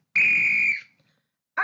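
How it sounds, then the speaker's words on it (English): A shrill whistle blown once to start a race in a storybook fable, a single steady blast of about half a second, close and loud, then a brief second burst starting at the end. "The whistle blew"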